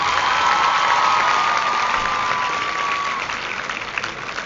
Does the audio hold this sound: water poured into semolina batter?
no